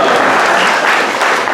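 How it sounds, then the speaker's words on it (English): A seated audience at an abalone festival hosted by the Japanese American Citizens League in Monterey, California, gives a loud, continuous round of applause, close and dense for its whole brief span. "wonderful round of applause"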